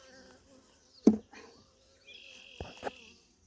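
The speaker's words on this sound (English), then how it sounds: "I'm going to use this frame because it's got a lot of bees on it" Honey bees buzz and hum faintly in the background, with a few louder knocks and a sustained whine rising briefly over the drone.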